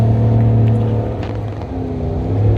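A Ram 1500 half-ton pickup with the eTorque Hemi engine pulls hard at full throttle while towing about 10,000 lbs, a loud steady low engine drone with road rumble heard from inside the cab.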